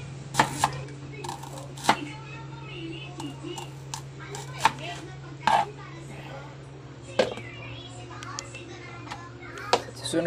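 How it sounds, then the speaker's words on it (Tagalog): A knife chops onions on a board in sharp, irregular strokes, preparing aromatics for a fish soup, with a steady hum beneath and children's voices nearby. "At ako'y magagayat ng sibuyas."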